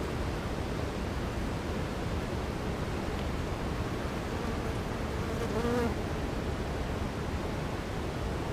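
Honeybees buzz steadily around an open hive while the frames are checked, a dense, continuous hum close by. One bee briefly passes louder near the mic partway through.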